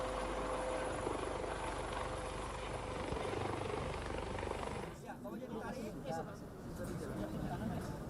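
A Basarnas search-and-rescue helicopter carries a body from Lambaleda to Labuan Bajo after an earthquake in Indonesia. Loud, steady rotor and engine roar fills the scene, then thins and wavers midway, with voices present.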